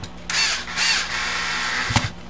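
A cordless drill whirs in two short high bursts with a brief pause between them, followed by a longer steady run and a small clunk near the end.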